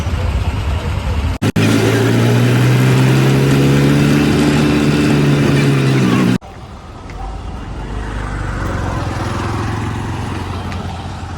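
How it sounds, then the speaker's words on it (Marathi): Road traffic stands at a busy city signal in a long jam, with loud, continuous engine rumble and a rising rev nearby, then a softer, steadier traffic hum. "ट्रॅफिक एवढी आहे की पंधरा मिनिटं आम्ही ते सिग्नलच थांबलो आहे"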